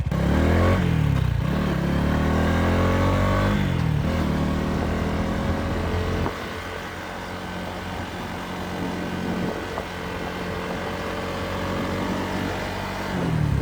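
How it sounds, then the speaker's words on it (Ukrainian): A Lifan SR220 motorcycle pulls away in first gear, its engine revving up in a few rising sweeps, then settling into a steadier, lower run nearby with some mechanical clatter. "Щоб рушити на мотоциклі, треба врубати першу і просто рушати."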